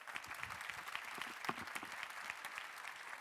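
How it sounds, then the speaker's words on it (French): Steady applause from a conference audience at a cooperative congress, a dense even patter of many hands clapping at a distance, sustained throughout without pause. "Vous pouvez applaudir."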